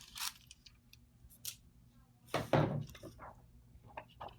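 Scissors snip and trim excess craft foil with sharp, scattered cuts close by in a quiet room, including one louder crinkling cut midway and a few lighter clips after.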